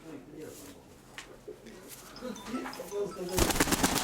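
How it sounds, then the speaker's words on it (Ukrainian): A dove coos softly a few times among other birds, with flapping and rustling near the end as a pigeon is handled. Nearby people talk throughout. "Ось голубка."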